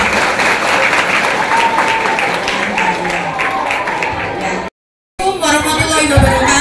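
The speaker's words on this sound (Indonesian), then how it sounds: "Pertanyaan luar biasa, tepuk tangan." An audience at a youth counselling session on preventing free sex and juvenile delinquency claps together in a sustained round of applause, close and loud, with voices mixed in, broken by a brief gap before more clapping and talk.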